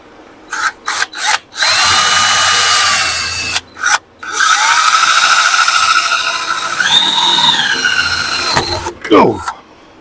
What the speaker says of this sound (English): I need to take this out and then drill a hole so the grease can get in there